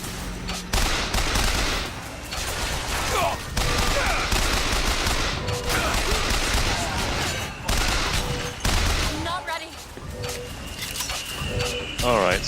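Rapid gunfire from Bioshock Infinite combat, bursts of fusillade and machine-gun shots stacked loudly over game effects, with a voice speaking over parts of it.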